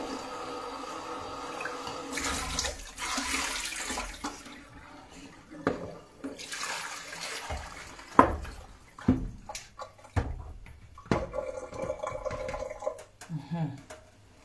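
Water runs from a tap in intermittent gushes and splashes, mixed with clatter and handling noises. The bursts are irregular, start and stop, and are fairly close.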